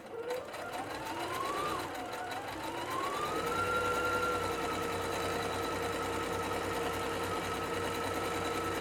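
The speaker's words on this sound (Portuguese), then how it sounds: "Aí se eu quiser arrematar, eu faço um retrocesso. Aperto aqui em cima e costuro." A Singer SE 9185 sewing and embroidery machine stitches steadily, backstitching to secure a seam, with a continuous close whirring hum whose pitch rises as the machine speeds up, then holds level.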